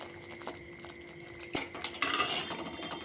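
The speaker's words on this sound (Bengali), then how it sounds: "এরপর ভেজে রাখা মাছগুলো দিয়ে দিলাম" Fried katla fish pieces go into a pan of yogurt curry, a few soft clinks and stirring scrapes of a utensil against the pan followed by a quiet sizzle, close and fairly faint.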